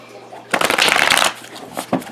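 A tarot deck riffles in one loud, close shuffle lasting under a second, followed by a few softer card flicks.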